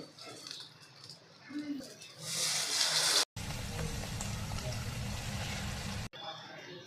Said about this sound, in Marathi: आता याच्यामध्ये आपल्याला जी मटकी बॉईल केली आपण ती पाण्यासहित घालायची यामध्ये